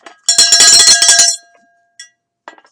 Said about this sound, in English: we're good with the bell now.